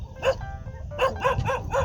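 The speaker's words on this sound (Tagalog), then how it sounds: "O yung aso nyo guys, baka mga gahat." A dog barks several times nearby, one bark followed by a quick series of four, over low background noise.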